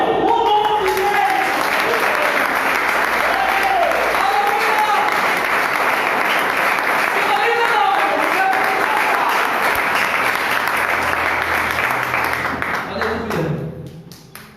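A church congregation applauds continuously in dense, loud clapping that fills the room, with a voice calling out over it before the applause thins and fades at the end.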